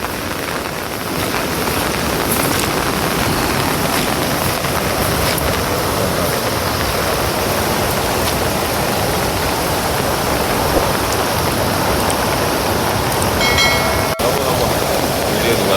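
Floodwater pours steadily over a small waterfall beside flooded farmland, a loud, continuous broadband rush holding evenly throughout with no break.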